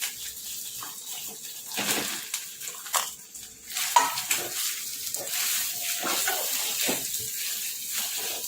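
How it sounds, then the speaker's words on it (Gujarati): Mashed potatoes sizzle in a hot pan as a spoon stirs and scrapes them, with irregular scraping strokes over a moderate frying hiss. "હવે મેશ કરેલા બટાકા એડ કરીશું।"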